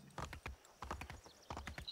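Rhythmic clip-clop of horse hooves in the video game Assassin's Creed III, in quick bursts, fairly close and clear, with short pauses between runs of steps.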